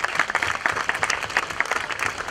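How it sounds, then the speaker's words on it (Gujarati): An audience claps for the panel speakers at a Gujarati film discussion, a short burst of fairly close applause with some individual claps standing out. "બધા વક્તાઓ માટે એકવાર જોરદાર તાળીઓ થઈ જાય"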